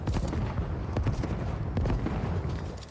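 Dense, continuous gunfire and distant booms from a Fortnite match, a steady loud barrage of overlapping shots with no clear gaps, fading slightly at the end.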